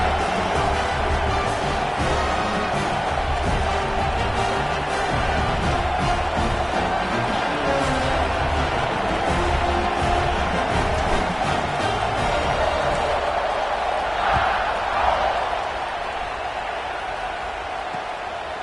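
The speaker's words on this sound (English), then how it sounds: "this crowd is buzzing after that last score" A football stadium crowd buzzing after a score, a dense continuous roar of many voices heard from within the stands, steady throughout and easing slightly near the end.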